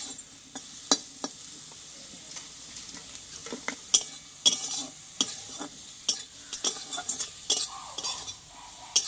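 Carrot and potato are stir-fried in oil, with repeated sharp scrapes and taps of a spatula against the pan in an irregular rhythm over a soft, steady sizzle, close and alone.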